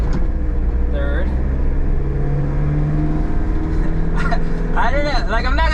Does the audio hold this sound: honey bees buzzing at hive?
no